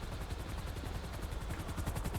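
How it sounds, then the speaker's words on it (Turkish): A police helicopter hovers low overhead in GTA 5, its steady rotor chop pulsing loudly and continuously with no talk over it. "Helikopter nerede lan? Tam tepemde."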